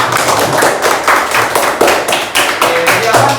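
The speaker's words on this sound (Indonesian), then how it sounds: "Beri tepuk tangan." Classroom of students clapping together, a loud dense patter of many hands with uneven rhythm running throughout, close and filling the room.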